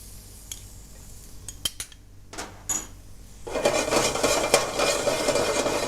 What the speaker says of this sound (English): what we're going to add is basically, or fry off, is a teaspoon of garlic to start off with.